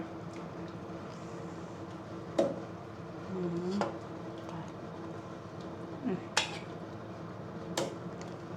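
Hot cooked rice being scooped and served onto dishes in a home kitchen alongside a Thai curry of eggs and pickled bamboo shoots, heard as a few sparse clinks and scrapes of utensil on dishware over quiet room noise.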